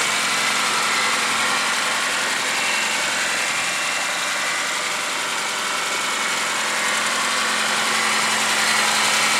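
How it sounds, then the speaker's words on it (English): A 2010 Suzuki Swift Sport's four-cylinder engine idles with a steady, even hum and hiss, loud and close, running unbroken with no voices over it. "There's a sporty 4-cylinder engine."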